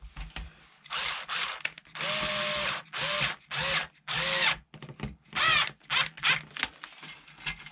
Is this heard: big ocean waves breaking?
no